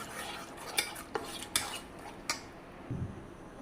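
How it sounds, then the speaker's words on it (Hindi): A spoon clinks and scrapes around a bowl while stirring chicken pakora batter. It gives several distinct metallic taps at irregular intervals and is close and fairly quiet, with no talking. "फिर से हम अच्छे से मिक्स कर लेंगे।"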